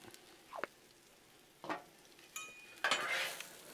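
Potatoes frying on a Blackstone griddle, heard as a few separate scrapes and stirring strokes of a spatula with light sizzling, ending in a brighter, louder burst of sizzle; close and fairly quiet.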